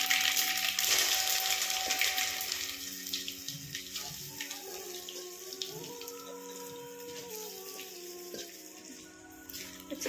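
Mustard seeds and sesame seeds sputter and crackle steadily in hot oil as they are tempered in a kitchen pan. The hiss is continuous and fairly loud, with no talking over it.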